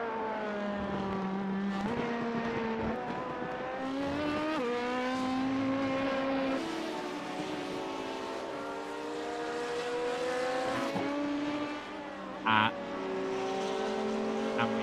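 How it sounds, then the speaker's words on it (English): The number 29 endurance racing car in a sim racing game drives along with a loud, continuous engine whine, rising and falling through gear shifts and a brief tire chirp near the end, heard alone without talk. "listen to number 29 car driving our way along"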